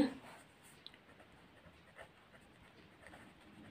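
Pen or chalk writing during a class 8 maths lesson on perimeter, soft scratchy strokes in short bursts, fairly quiet, with a faint voice in the background.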